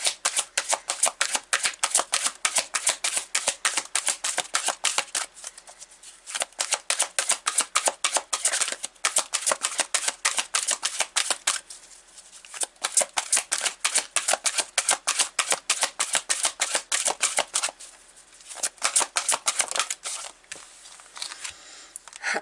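Tarot cards riffled and shuffled by hand in long rapid bursts of crisp flutters and snaps, broken by brief pauses as cards are drawn; close and fairly loud, with no talking.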